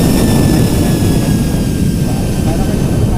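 Avidus F30 portable mini fan blowing at close range, a loud, steady rushing airflow like a hair blower, with a voice speaking over it.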